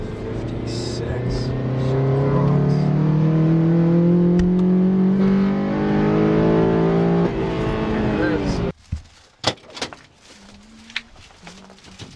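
Honda Civic Si with a K20 engine accelerating: a loud, close engine note rising steadily in pitch through a gear, then cutting off abruptly into quieter cabin sounds with a few faint knocks.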